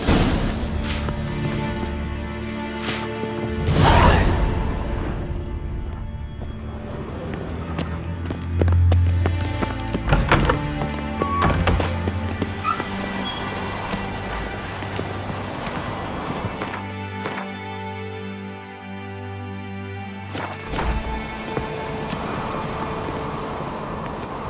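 Horse galloping in The Witcher 3, a steady thudding clip-clop of hooves carrying on throughout under game music and ambience, with a brief voice now and then.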